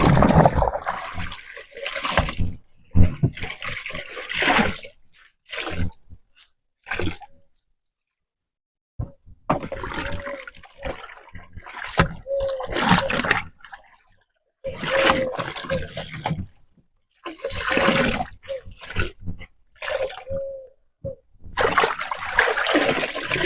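Water draining from a released washing hose below, after clothes have been wrung out: an intermittent trickling and splashing flow in bursts with short silent gaps, fairly close.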